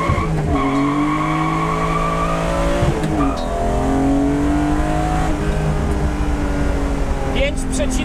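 A BMW E36 with an M54B30 inline-six accelerates hard, its engine note climbing steeply through the revs with a brief gear change midway and tyre squeal, loud and close.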